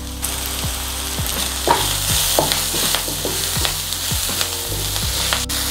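Onions and curry leaves sauté in a pan for a shark fish dish, with a continuous sizzle broken by repeated spatula scrapes and taps against the pan, near and moderately loud.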